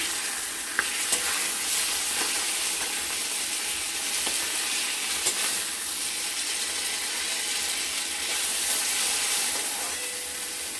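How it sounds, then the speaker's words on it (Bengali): Fish heads fry in hot oil with a steady, loud sizzle and hiss, occasional crackles and pops, and no voices. "এই মাছের মাথাটা ভাজা হতে থাক"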